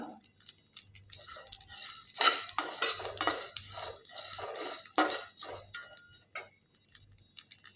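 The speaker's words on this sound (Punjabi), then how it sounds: "ਦੇਖੋ ਰਾਈ ਵੀ ਚਟਕਣ ਲੱਗੀ ਆ" Mustard seeds crackle and pop in a hot pan while spices roast for amla pickle, giving sparse, irregular sharp ticks and snaps, some louder, close and quiet overall, with no talk.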